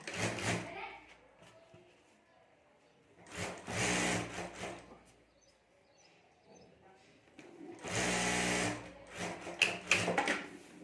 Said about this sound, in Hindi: तो इस तरह से मैं यहाँ ऊपर साथ में अस्तर रख कर सिलाई कर देता हूँ।